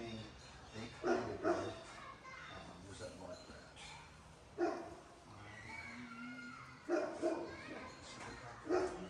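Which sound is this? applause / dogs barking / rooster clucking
dogs barking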